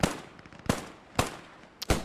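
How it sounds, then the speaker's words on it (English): Machine guns firing in the WWII game Post Scriptum, heard as four sharp, loud bursts spaced roughly half a second apart with a low rumbling background between them. "You can hear the MGs going out here as they approach the first objective."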